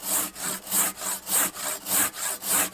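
A Silky Temagari Japanese pruning saw cuts through a tree branch, its strokes rasping in a steady back-and-forth rhythm of about nine passes, loud and close, with no voices.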